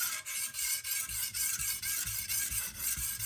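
A chef knife is stroked along a Naniwa whetstone in steady, regular back-and-forth passes, about three per second, producing a close, continuous gritty rasp with no talking.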